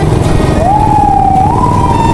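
A police car siren wails on the road, its rising tone sliding up and holding over a loud, steady engine and traffic rumble, close by and dominant.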